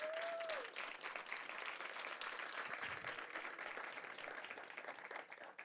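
Audience applause at a Hamilton County groundbreaking ceremony for a new regional safety complex, steady dense clapping from a crowd, sustained and fairly even, tapering slightly toward the end.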